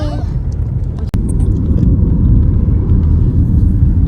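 Steady low road rumble of a car driving on the Karakoram Highway, with a continuous engine and tyre drone throughout and one brief click near the start, no voices.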